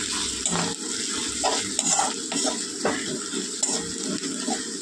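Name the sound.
frying ginger and ground spices for masala dosa filling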